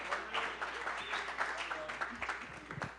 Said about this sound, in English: Thank you for that uproarious applause for me.